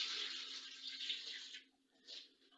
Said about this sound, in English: And then add enough water.